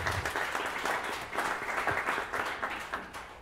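Audience applause for a panelist at a printmaking summit panel on new print technologies, a moderately dense patter of many hands with rhythmic swells, somewhat distant.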